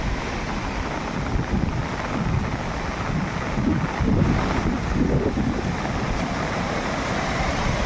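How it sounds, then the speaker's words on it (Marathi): Strong flood water rushes through hilly farm country in heavy rain, a dense, loud, unbroken roar with gusts of wind buffeting the microphone and no voices. "आज जोरात पूर आलाय"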